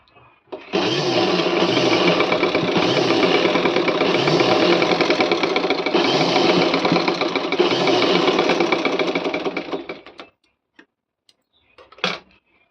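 An electric sewing machine stitches a pleated Kuchipudi dance dress in one loud, steady, close run of about nine seconds with a rapid rhythmic whir, then stops, followed by a brief clack.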